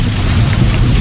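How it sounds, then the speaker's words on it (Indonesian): Heavy rain as a sound effect in a radio horror story, a steady, dense hiss of downpour with a low rumble, loud and unbroken with no voice over it. "Namun kulihat hujan malah tambah deras."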